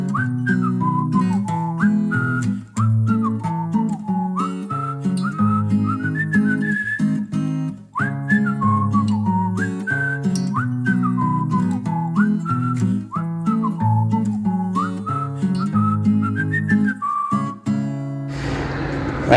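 Podcast theme tune whistled over a steady backing track, a bright repeating melody running through nearly twenty seconds before cutting off abruptly.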